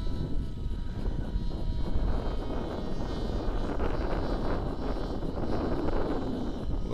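A Katana X2 KFm6 FPV flying wing flies with its electric motor droning steadily, heard mixed with constant wind rush over the microphone and no talk.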